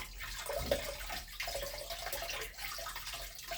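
Water runs steadily from a tap as a paintbrush is rinsed under it, a soft continuous splashing hiss with slight fluctuations, close and fairly quiet.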